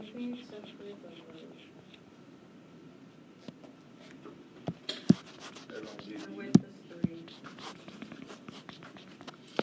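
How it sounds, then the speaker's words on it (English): Rubbing and scratching of an eraser wiping writing off a page, soft and close, in irregular strokes with a few sharper taps, no talk over it. "I guess I need to erase that so I can see."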